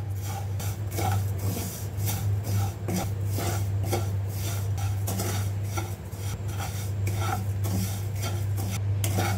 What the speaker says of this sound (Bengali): চিনি দেওয়ার পর ভাজতেই থাকব।